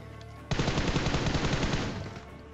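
Sustained burst of automatic gunfire in the PUBG Mobile shooter game, starting abruptly and rattling on loudly for about two seconds before easing off slightly, with no talk over it.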